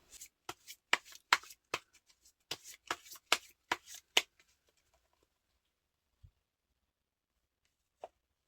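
Tarot cards are shuffled in a quick burst of crisp riffles and taps over about four seconds. After that comes near silence, broken by a couple of faint knocks.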